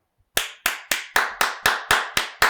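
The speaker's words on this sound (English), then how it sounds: "I'm gonna give you a real round of applause for that, Colin, not the digital one" A single person clapping hands, nine sharp, evenly spaced claps close to the mic after a brief silence, loud and crisp.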